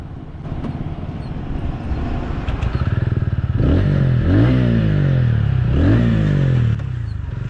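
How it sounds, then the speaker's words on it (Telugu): A TVS Ronin motorcycle engine revs hard on a highway ride, a steady loud drone that climbs through repeated rising throttle sweeps with wind rush, no voices. "ఆల్ న్యూ టీవీఎస్ రోనిన్ని ఇప్పుడు మనం రైడ్ చేద్దాం"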